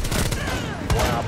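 Rapid gunfire in Rainbow Six Siege, a dense burst of shots filling the clip with a louder volley near the end, loud and close.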